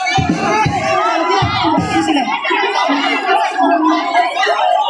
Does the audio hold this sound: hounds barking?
no